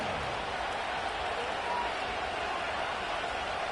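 Stadium crowd noise from an American football video game, a steady broad roar of cheering and murmuring that fills the background.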